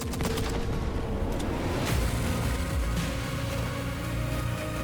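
Dense, continuous gunfire from a video game trailer, with rapid bursts and booms layered over each other for several seconds, loud and with no speech.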